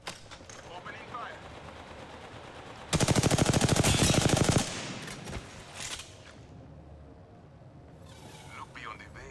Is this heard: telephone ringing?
no